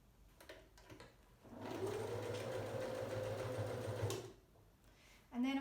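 A sewing machine runs zigzag stitches across a rip in jeans in one steady whirring stretch of a few seconds. It starts and stops between quiet handling sounds.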